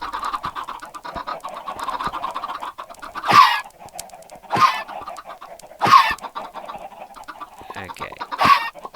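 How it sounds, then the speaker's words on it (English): Chickens in a Minecraft-style video game cluck continuously in a dense, loud chorus, with several sharper, louder squawks standing out at irregular intervals. "I'm gonna go kill those chickens."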